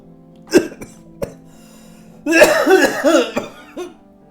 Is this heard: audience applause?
no